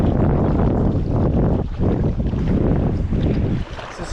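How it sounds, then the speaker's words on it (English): Sea waves breaking behind a stand-up paddleboarder out on open water, a loud continuous wash and roar mixed with heavy wind buffeting the microphone. "So some waves just on their way now. I can hear them breaking over my shoulder."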